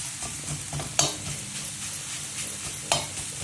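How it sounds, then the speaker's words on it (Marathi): Coconut and jaggery filling roasting in ghee in a pan gives a continuous soft sizzle with scraping stirs and a couple of sharp spoon clicks against the pan. "गोळाचे एक खडे राहिले असतात ते थोडंसं तूप घालूनच भाजायला लागतं"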